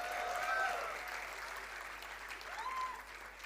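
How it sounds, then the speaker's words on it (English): Audience clapping at a 2024 convocation award ceremony, a steady moderate patter of applause with a couple of brief whistle-like tones over it. "let's clap for Girish sir, please."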